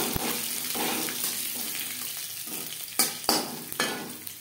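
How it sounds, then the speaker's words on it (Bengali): Crushed garlic with black mustard seeds frying in oil in a pan over a low gas flame, a soft close sizzle broken by a few sharp clatters of stirring. "রসুন ভাজা হয়ে এসছে"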